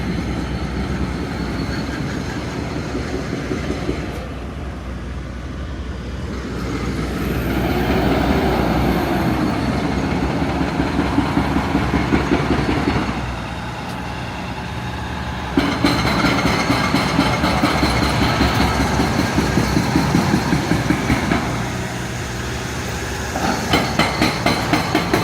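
Construction work near Pape Station in Toronto, a heavy, continuous mechanical roar and rumble with rhythmic clattering, shifting in intensity over time and loud throughout, with no voices.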